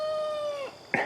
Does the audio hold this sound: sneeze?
no